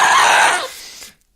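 A single Minecraft ghast cry sounds loud and shrill at first, then drops into a quieter, breathy tail and stops abruptly, leaving silence.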